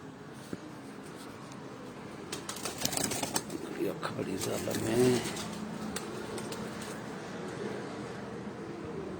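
Galway pigeons kept by a pigeon fancier in Pindi Bhattian coo softly in short low phrases, with a stronger burst midway, while people talk over them against steady background noise.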